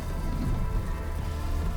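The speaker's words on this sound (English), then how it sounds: "we found more dirt and more rain as storms appeared to be in all directions" Heavy rain from storms over the countryside around Kilbirnie, Australia, pours down in a dense, continuous hiss with a low rumbling undertone, steady and loud throughout.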